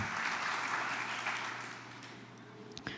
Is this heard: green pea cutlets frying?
no